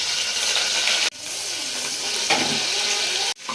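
Small onions frying in hot oil in a pan while making dal rice, with a constant close sizzle, a couple of abrupt cuts and a brief stir or clatter.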